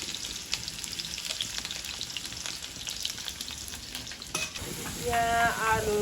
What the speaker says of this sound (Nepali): पटपट पड्कियो जिरा. त्यसपछि प्याज पुऱ्याउने. अनि आलु भुट्ने.